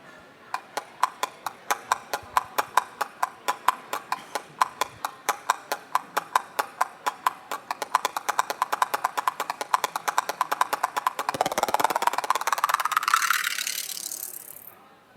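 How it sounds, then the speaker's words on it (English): North African hand percussion clacker played in a rapid, steady stream of dry metallic clacks that grows denser and faster toward the end, close and fairly quiet. "it's like a clacker kind of sound"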